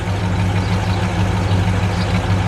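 A 1964 Plymouth Sport Fury convertible's 426 Street Wedge V8 idles steadily and close by, a deep, even rumble with a slight lope that runs unbroken throughout.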